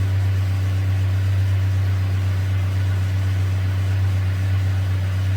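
A 2011 Toyota Tacoma 2.7 engine with an overheating problem idles steadily, giving a constant low hum at close range.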